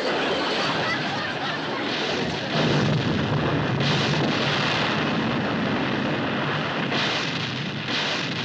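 Dense, continuous gunfire rumbles and cracks as guns shoot at high flying birds, a loud sustained barrage with bursts swelling and fading over a noisy outdoor background.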